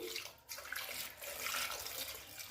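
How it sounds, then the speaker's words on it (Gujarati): Water poured into a pot of potatoes with salt, set for boiling in a pressure cooker; a faint, steady splashing rush runs throughout with no talk. "જરૂર પ્રમાણે આપણે પાણી એડ કરીશું"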